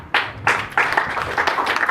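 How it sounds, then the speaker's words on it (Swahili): A church congregation claps during a sermon, the hand claps coming in uneven bursts and swells across a couple of seconds, moderately loud and close. "Pigia ndoa za watu makofi mazuri."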